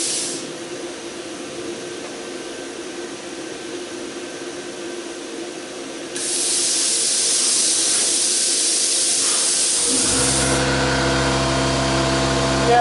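An air compressor for a plasma cutter runs with a broad steady hiss that grows louder partway through, and then a low motor hum kicks in near the end, loud and continuous, with no talking.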